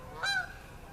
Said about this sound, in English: And the Canadian geese are moving.